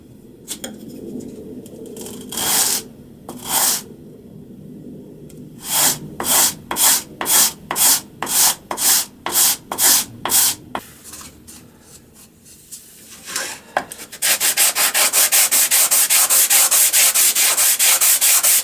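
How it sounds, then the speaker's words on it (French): Wood for an earring display board being sanded by hand with 80-grit paper: scattered scrapes, then a run of rhythmic back-and-forth strokes, ending in a faster, denser stretch of rubbing, close and alone. "Et il n'y a plus qu'à mettre un coup de ponçage."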